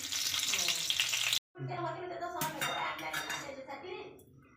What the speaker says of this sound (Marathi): आपण रवा भाजून घेऊया आपण आता हा लो फ्लेमवर